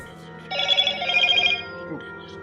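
A mobile phone rings in a burst of bright, repeating electronic tones lasting about a second, loud over faint background sound, then cuts off while a voice briefly continues.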